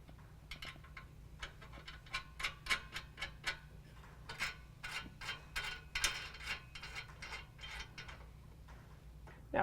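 A ratchet tightens nuts, with flat and lock washers, onto 8 mm bolts while ICI Magnum RT running board steps are fitted to a 2017 Dodge Ram 2500, giving quick, fairly faint rhythmic clicking bursts close by.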